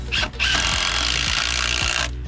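A power drill drives a Tapcon screw into a concrete foundation with a loud, continuous high whine and grinding, a short burst first, then a sustained run that stops abruptly near the end.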